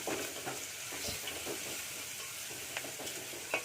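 Raw totapuri mango pieces frying in a pan for mango chitranna make a soft, continuous sizzle with faint stirring scrapes, quiet and close, with no one speaking.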